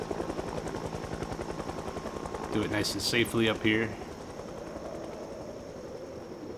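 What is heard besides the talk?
helicopter flying around in a video game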